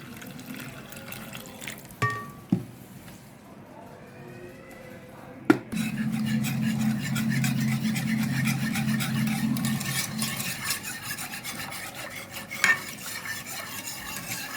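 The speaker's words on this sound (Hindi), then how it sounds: "अब इस टाइम पे मैं इसमें 3 से 4 गिलास पानी शामिल कर दूंगी और इनको अच्छे से मिक्स कर दूंगी।" Water being beaten into a beef haleem mixture with a beater or fork, a steady wet rasping churn that rises after a couple of sharp clinks and runs on for several seconds at close range.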